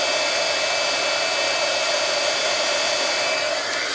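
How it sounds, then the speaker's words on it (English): A heat tool blows a loud, steady hot-air whoosh close by while melting embossing powder on glitter paper, an unbroken drone with no talk. "I'll just heat up my embossing powder until it all goes melted and shiny."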